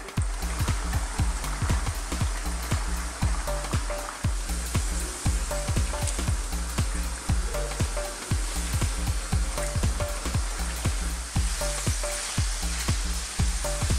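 Fries frying in a pan give a continuous close sizzle with bubbling crackle, punctuated by regular rhythmic knocks and scrapes through the whole stretch, with no talking.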